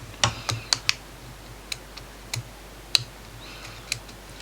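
Scissors cutting a paper nail form for acrylic nail work, giving a handful of quiet, crisp snips in an irregular rhythm against a hushed room.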